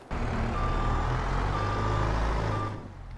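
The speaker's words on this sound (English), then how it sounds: "So let's get going with the skid loader to get this evened out." A Bobcat T76 skid loader in Farming Simulator 22, its engine rumbling steadily with repeated reversing beeps over it, loud and close throughout.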